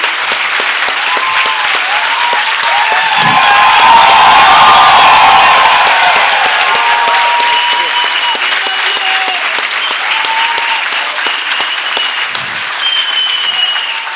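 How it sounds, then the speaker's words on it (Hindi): A live festival audience applauds steadily with scattered cheers and whoops, a dense wash of clapping that swells mid-way and continues throughout. "वो भी तालियां बजा रहे हैं।"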